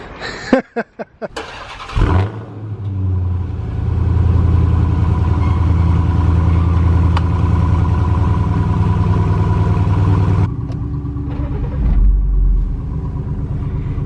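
A Dodge Hellcat engine roars and revs hard, loud and close, holding a steady growl for several seconds before the exhaust drops back and surges again briefly.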